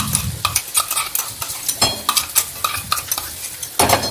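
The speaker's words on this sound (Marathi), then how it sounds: "ते व्यवस्थित परतून घ्यायचे." Ground masala paste sautéing in hot oil in a kadhai for puneri misal, with repeated scraping and stirring strokes of a spatula over a soft sizzle, close and fairly loud, no talk.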